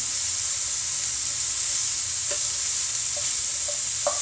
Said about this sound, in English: let's check our sausage. See if you can see. I'm going to just turn it over. Don't want it to burn.